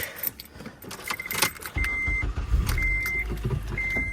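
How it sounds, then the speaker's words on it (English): Getting into an Acura TSX: keys jangle and a door thumps shut, then the engine starts and settles into a steady idle, with repeated short electronic chimes over it; close and clear, with no talking. "Gotta get in the car, start it up."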